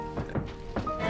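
Muffled, dull thumps from a bed being banged to call for help, two or three knocks heard faintly through a wall with a low background hum.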